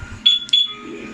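A two-way alarm installed on a Yamaha Mio Sporty 115cc motorcycle gives two short, sharp electronic beeps in quick succession, near and clear against quiet background.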